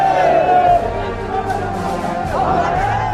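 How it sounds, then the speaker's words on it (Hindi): A large crowd gathers at a martyr's funeral at the Ganga ghat, making a loud, continuous murmur of many voices with a few louder calls rising above it. "शहीद सपूत को अंतिम विदाई देने के लिए हर तरफ भीड़ उमड़ पड़ी"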